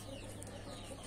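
Indian game fowl, a fighting chicken breed, cluck softly and continuously against a steady low background hum, with no voices present.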